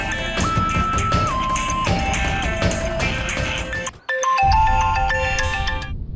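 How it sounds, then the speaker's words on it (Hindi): A ringtone melody plays loudly and continuously, breaks off briefly, then resumes for another couple of seconds before stopping. "कल्याणी दीदी का फोन, क्या करें, उठाएं या नहीं?"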